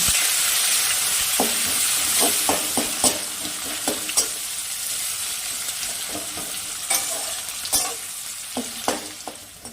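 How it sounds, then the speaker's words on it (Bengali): Chopped onions fry in a pan for a ghugni of peas, giving a constant loud sizzle and hiss. Intermittent spatula scrapes and taps on the pan break through in an irregular rhythm, close up. "পেঁয়াজ কুচিগুলো অল্প আমি লাল করে নেব, লাল করে ভেজে নেব"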